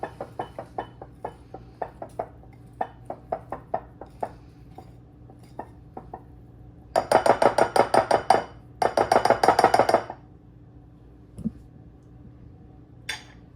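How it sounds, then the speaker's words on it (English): A whisk mixes coffee cake batter in a bowl, starting with scattered sharp taps and clinks, then two dense bursts of fast rhythmic whisking against the bowl, followed by a lone knock. "Actually start with this whisk a little bit and get it incorporated."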